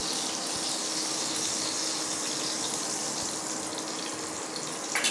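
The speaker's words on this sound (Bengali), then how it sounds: "দিয়ে দেবো শুকনো লঙ্কা তেলেতে, দিয়ে দেবো গোটা জিরে অল্প করে" Dried red chillies and whole cumin seeds frying in hot oil, a steady close hiss and sizzle that runs unbroken throughout, with a small clatter at the end.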